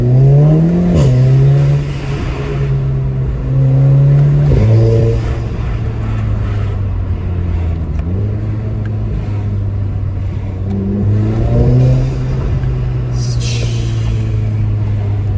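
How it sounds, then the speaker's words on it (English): A 2016-style MK7 Golf R with its EA888 turbo engine and RAMAIR induction kit pulls hard through the gears, loud droning revs climbing then dropping at each shift, with intake whoosh under a steady engine roar. "But you can hear it every time you accelerate, you go shh."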